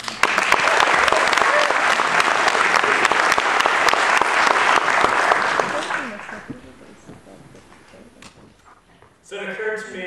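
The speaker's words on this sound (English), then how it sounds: "Let's have a big round of applause for Andrew." Loud, dense applause from an audience for a speaker at an Ignite talk event fills the first six seconds, then fades into scattered claps and room noise before a brief burst of sound at the end.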